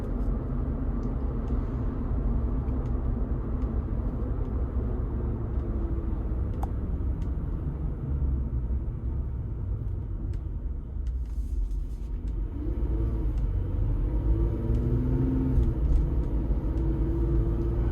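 Inside a 2025 Jeep Wrangler Rubicon AEV V6 on bigger tires, a steady low road rumble and tire drone fills the cabin at a moderate level, swelling slightly toward the end with no talking.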